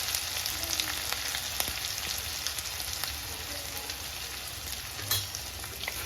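Chillies, cumin, ginger and turmeric fry in a pan with a steady, close crackling sizzle throughout, dotted with faint scraping stirs and a brief louder burst near the end.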